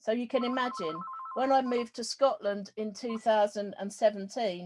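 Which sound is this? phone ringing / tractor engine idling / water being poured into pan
phone ringing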